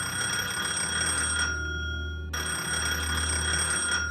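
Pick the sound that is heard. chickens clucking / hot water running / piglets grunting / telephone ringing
telephone ringing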